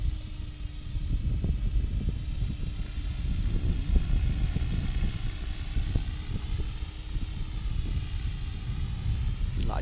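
A battery-powered class 500 model helicopter flies after adjustments, a steady high-pitched rotor and motor whine holding over rough low wind rumble, constant in level throughout.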